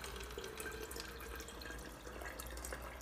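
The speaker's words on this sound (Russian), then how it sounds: "Наливаем воду." Steady, soft trickle of water pouring into an electric kettle, continuous and fairly quiet with no talking.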